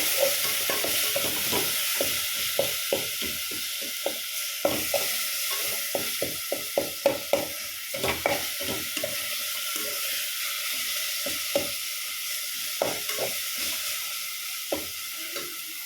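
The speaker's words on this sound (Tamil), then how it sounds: "இதை சேர்த்து நல்லா வதக்கிக்கலாம்." Ginger garlic paste stirred and sautéed in hot oil for mushroom biryani, a steady sizzle with frequent scraping clicks of a spoon against the pan, close and continuous without speech.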